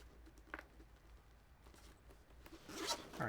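A small zipper on a bag or case handled up close in a quiet room: faint fiddling and light taps, then a short quick zip near the end.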